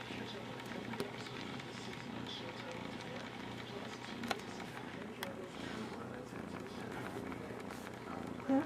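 A steady low rumbling purr runs continuously throughout, fairly loud and close, with a few faint clicks and rustles over it.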